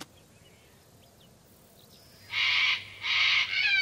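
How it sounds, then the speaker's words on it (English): Two harsh, loud screeching black cockatoo calls ring out after a quiet forest stretch, then a shorter rasping call follows. "It sounded like the screech of the black cockatoo."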